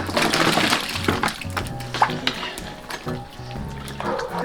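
Lamb spine pieces frying in hot oil in a large pot for a hotpot, a dense close crackling sizzle with occasional pops and clatter running throughout.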